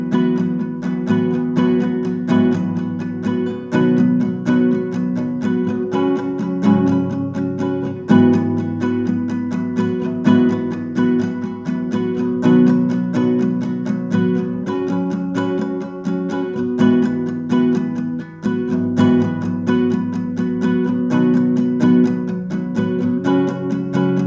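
Acoustic guitar strummed through the pre-chorus chords of the song, a steady rhythmic pattern played alone at close range with full, even loudness.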